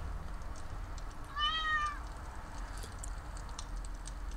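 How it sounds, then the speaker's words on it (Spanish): A single short, clear meow from a pet cat sounds out once, moderately near, above a quiet background hum with a few faint ticks. "Mi gato."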